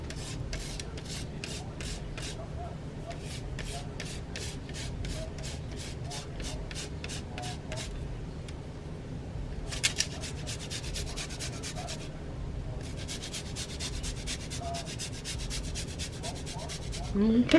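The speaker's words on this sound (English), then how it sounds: "and then just a little bit of lemon zest." Meyer lemon zest grated for an Instant Pot cheesecake, heard as repeated short scraping strokes in quick rhythmic bursts, close and fairly quiet, with brief pauses between runs and no talking.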